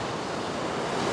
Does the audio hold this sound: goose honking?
no